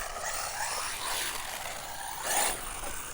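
ARRMA Typhon 6s RC car running on dBoots Hoons street tires outdoors, a steady buzzing motor whine that swells briefly as it passes nearby, with no voices.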